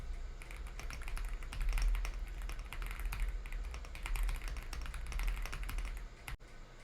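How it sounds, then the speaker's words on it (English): Rapid, steady clacking of keys on a mechanical gaming keyboard, close and fairly loud, with a low background hum and no talking. "I'm really excited to type on it."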